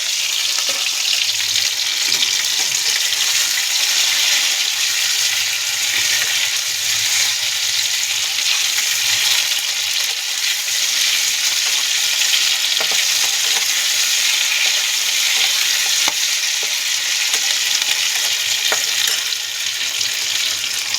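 Boiled potatoes frying with spices in hot oil for a katla fish curry, a steady loud sizzle running throughout with faint stirring scrapes underneath.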